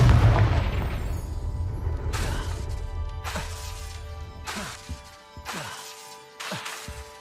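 Confringo blasting curses going off in Hogwarts Legacy, with several sharp booming bursts arriving at irregular intervals over a rumbling combat background, loud and close.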